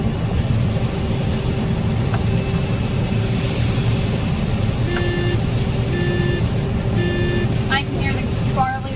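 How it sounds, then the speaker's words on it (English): A combine harvester's grain tank full buzzer sounds in repeated steady electronic beeps while cutting barley on a Montana farm, partly buried under the loud, constant engine drone inside the cab. "My grain tank buzzer's been going off quite a while."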